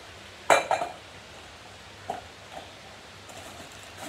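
Plates clink together in a kitchen while a meal is prepared, with a cluster of sharp ceramic knocks at the start and a few softer taps afterward, fairly close and with no talk.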